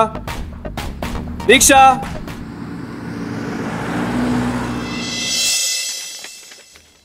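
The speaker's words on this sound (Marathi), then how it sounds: "आता रिक्षाने जातो." An auto rickshaw travels through road traffic, its engine rumbling and droning steadily beneath a voice, with the motor noise continuing alone for several seconds before cutting off abruptly near the end.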